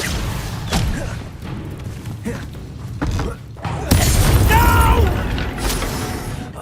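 Incendio fire spell cast in Hogwarts Legacy, scattered thuds and mechanical clanks, then a loud whooshing roar of flame with a shattering crackle that fades, mixed with game effects.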